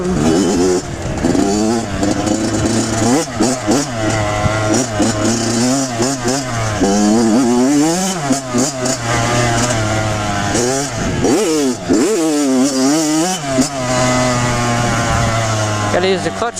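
A dirt bike engine revs hard while being ridden, its loud, close pitch swooping up and down through repeated throttle blips and gear changes, with a brief drop-off near the middle before surging again.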